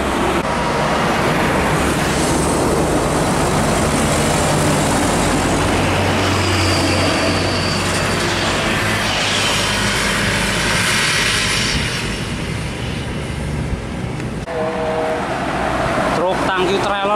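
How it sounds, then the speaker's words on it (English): Long Indochemical tanker trailer truck rumbles past on a roadway, a loud sustained engine roar swelling and fading over many seconds amid general traffic noise. "Tangki trailer Tronton Indochemical truk IC panjang banget bosku, tangki IC."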